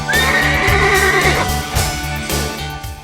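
A horse neighs loudly in a shrill, wavering whinny lasting over a second, over a steady rhythmic musical backdrop, followed by softer trailing sounds.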